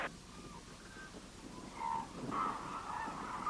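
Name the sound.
cranes calling at wintering feeding ground in Izumi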